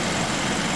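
A 2013 Kia Optima engine hums and idles steadily in a brief, continuous low drone with no other sounds.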